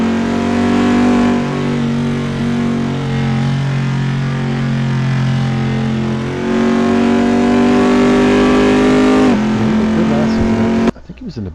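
A Bentley GT race car runs flat out through a kink at Road America, its engine holding a loud, steady high-revving drone with gear changes, then cutting off abruptly near the end, under commentary.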